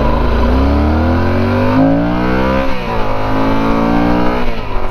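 A Yamaha Super Tenere inline-two motorcycle engine revs up close and loud, the pitch climbing, dipping and rising again through a steady throaty drone.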